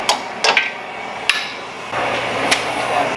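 Hammer blows striking a rust-welded bolt during suspension work on an old Chevy pickup in a shop, about five sharp metallic strikes spaced irregularly, close and loud over a low background hum.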